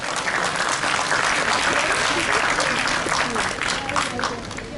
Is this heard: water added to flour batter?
no